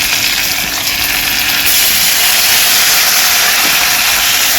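Water poured into a hot pan of fried onion and ground coriander, cumin, ginger and garlic paste, making a loud, continuous sizzling hiss that grows stronger after a moment and keeps steaming.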